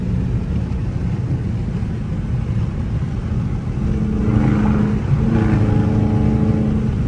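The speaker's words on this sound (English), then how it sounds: "This car is loud as hell" A loud, constant Dodge Charger R/T engine drone, traction control off, that swells partway through into a higher whining rev, with rising tonal harmonics over the rumble; no talking.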